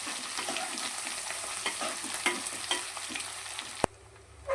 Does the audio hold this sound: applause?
no